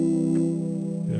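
A Roland Gaia SH-01 synthesizer plays a sustained note through its bit crusher effect, giving a buzzy, gritty, harmonically rich lo-fi tone that holds steady before shifting slightly near the end, brief and alone.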